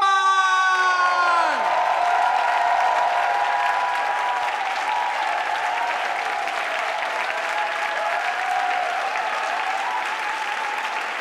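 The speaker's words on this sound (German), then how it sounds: "bitte gebt ihr einen äh, sehr großen Einstandsapplaus, einen großen Applaus für die Lia Sudermann!" An audience at a comedy stage show applauds and cheers loudly and steadily for a comedian, with whoops rising over the dense clapping; a fading musical jingle plays at the start.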